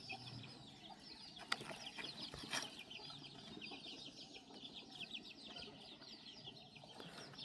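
Farm chickens clucking softly at a distance, a quiet run of repeated clucks with occasional wing flaps and a couple of sharp knocks.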